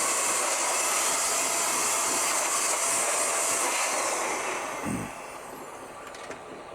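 An electric blower blasts pollen off a mining rig in a shed, giving a loud, steady broadband rush of air that runs nearly throughout, easing off toward the end.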